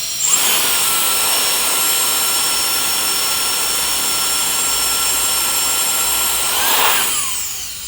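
A Jet Fan Big Turbo runs at speed 2, a loud, steady high-pitched turbine whine with a rushing airflow roar that spins up at the start, holds level, then winds down near the end.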